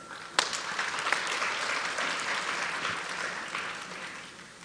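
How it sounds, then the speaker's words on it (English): Sustained applause from an audience at an international museum and heritage forum, a dense steady clapping that fills the room from start to finish with no voices over it. "ask you all to clap yourself for doing this fabulous work"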